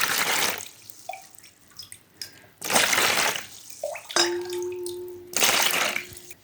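Warm water runs into a bowl in short bursts for kneading dough, several separate pours with dripping and clinks in between, close and clear with no talk.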